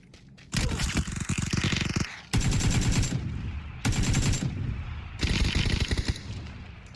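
Automatic gunfire in PUBG, coming in four rapid bursts separated by short gaps, loud and sharp with no voices over it.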